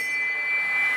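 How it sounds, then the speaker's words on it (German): A prize-lap bell rings at a 2016 amateur cycling race in Schifferstadt, Germany, giving a steady sustained ring, fairly loud against the open-air crowd noise, with no announcer speaking during it. "Prämienabnahme Glocke zu einer weiteren Prämie"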